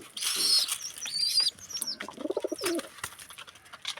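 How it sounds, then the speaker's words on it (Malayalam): Pigeons at feeding time, with soft low cooing, bursts of wing flapping and light scuffling and chirps close by, no talk. "നമ്മൾ തീറ്റ ഇടാൻ വന്ന ഉടനെ ഈ പ്രാവുകളൊക്കെ ഇങ്ങനെ"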